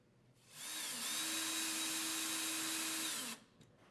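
A drill runs a Type A number 10 by 1 inch screw partway into a pilot hole in a wall to hang a GOJO Provon soap dispenser. It gives one steady whirring burst of nearly three seconds that winds up and then stops.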